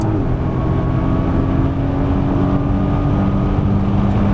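A Nissan GT-R on a racetrack gives a loud, sustained engine drone with a steady low tone and a slight rise in pitch, close and continuous throughout with no one speaking.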